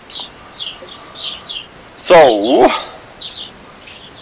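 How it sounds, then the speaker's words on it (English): Small birds chirp outdoors around a deck in short, repeated bursts at a moderate distance. A person speaks briefly in the middle, and the calls continue before and after. "I can hear the birds."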